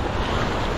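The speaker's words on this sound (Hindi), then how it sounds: "अरे कितनी आंधी आ रही है यार" Strong wind gusting over a river raft on the Ganga at Rishikesh, a loud, continuous roaring rush of air and water noise buffeting close to the microphone.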